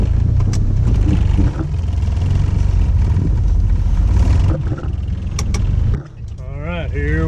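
A Ford Mustang engine runs loud and close with the gas pedal held down, giving a dense low rumble that dips briefly near the end as a person talks over it.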